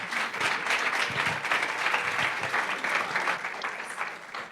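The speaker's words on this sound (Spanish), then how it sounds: "los invito a que demos un fuerte aplauso a nuestra." Conference audience applause at a longevity, family bonds and caregiving gathering, a steady dense patter of many hands clapping at close range, sustained evenly throughout with no talk over it.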